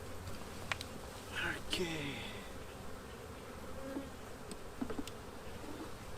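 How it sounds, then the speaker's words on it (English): Honey bees hum steadily around a hive in the background, a low continuous buzz with a few brief louder passes, amid wildfire smoke in Canada. Someone says a single word. "There's a lot of smoke here in Canada. Makes the bees a bit grouchy."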